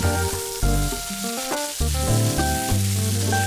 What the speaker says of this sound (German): Dann kommt der Fisch in eine zweite Pfanne.